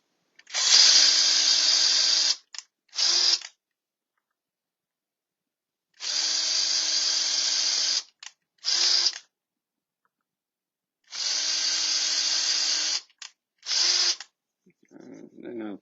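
A power drill whirs in three long bursts, each followed by a short extra burst, with silent pauses between; close and steady-pitched.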